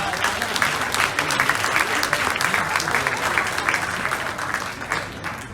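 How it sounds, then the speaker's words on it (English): A hall audience applauds steadily at an evening startup demo day in Hong Kong, dense continuous clapping filling the room at a fairly loud level for several seconds before easing slightly at the end. "So give Manav a round of applause."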